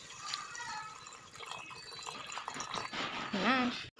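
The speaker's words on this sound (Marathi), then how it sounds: "तर यामध्ये आपण टाकणार आहोत थोडंसं पाणी." A little water poured into a cooking pot of spiced food, a soft splashing and trickling, close, with a voice speaking over part of it.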